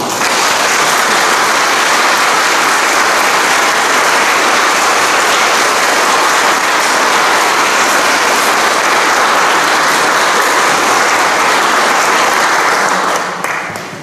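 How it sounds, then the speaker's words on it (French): A church congregation applauds newly confirmed young people at a confirmation service, a loud, dense, continuous roar of clapping that holds steady for the whole stretch and tapers slightly at the very end. "je vous invite toutes et tous à applaudir les confirmés"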